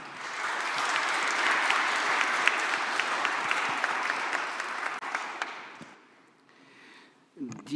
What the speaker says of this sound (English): Let's welcome with applause,